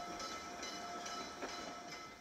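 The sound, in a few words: restored 1906 railway engine running on scenic railroad line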